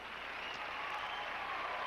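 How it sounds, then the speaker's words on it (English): A pageant audience cheers and applauds for Miss Louisiana at the Miss Teen USA 1988 contest. The applause is a steady, even wash of clapping, heard at a distance and fairly faint. "The cheering section is there."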